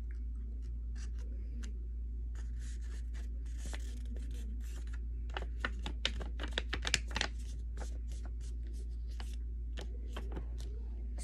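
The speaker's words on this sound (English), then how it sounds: "So first you have to fold it diagonally." Origami paper being folded diagonally and creased gives close, crisp crackles and rustles in irregular bursts over a constant low hum, busiest near the middle.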